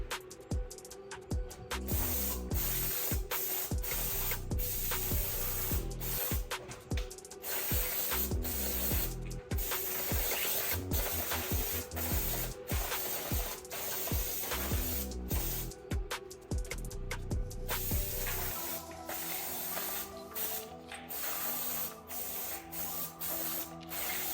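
A spray paint can hisses over a rifle in long, steady bursts broken by short pauses, close and loud throughout with no talk.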